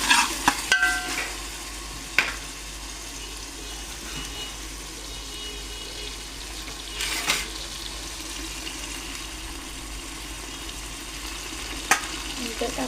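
Potato pieces are stirred in a frying pan for a quick rice dish, a soft continuous sizzle with occasional spatula knocks and clatters, loudest at the start.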